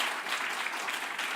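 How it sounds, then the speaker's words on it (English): Audience applause during a breakout session at an open science symposium, a dense, even wash of clapping from a crowd that fills the whole short moment without a break. "Can you please applause again? We want to record it."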